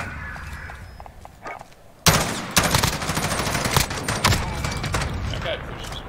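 Gunfire during a first-person shooter match with bomb objectives: after a quieter stretch of game chatter, a dense run of rapid automatic shots breaks out and continues in loud, clattering bursts, with voices talking over it.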